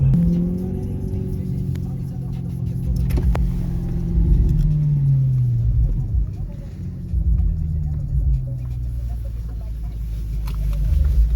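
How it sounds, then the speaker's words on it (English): An Audi R8 engine revs and rumbles steadily as the driver attempts donuts, a loud, close, continuous drone with rising and falling pitch sweeps, and people talking over it. "He decided he's gonna attempt to do donuts inside this R8."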